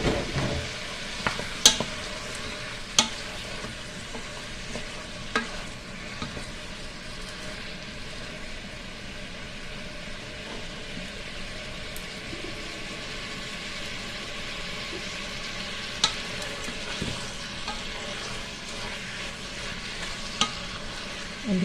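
Mutton, one kilogram and freshly washed, fries in a pan for a restaurant-style mutton masala, giving a steady close sizzle with occasional sharp clicks and scrapes of stirring throughout, no one speaking.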